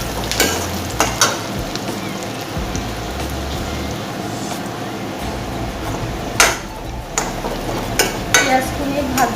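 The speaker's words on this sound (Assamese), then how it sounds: "পিঁয়াজখিনি ভালকৈ ফ্ৰাই কৰি ল'ব লাগিব" Onions frying in a pan until brown, a steady loud sizzle with occasional stirring clatters throughout, no voices over it.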